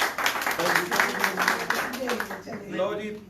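A church congregation at a Friday worship service claps hands in a steady rhythmic beat, fairly close and continuous, with speech and singing voices mixed in over the clapping.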